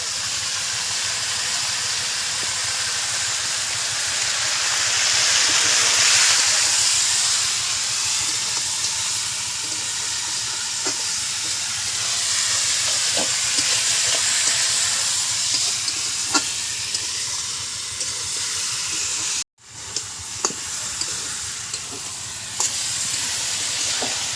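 Country chicken curry sizzles and hisses loudly in a hot pan while being sautéed with salt and turmeric, a steady frying roar with occasional stirring clicks and a brief cut near the end.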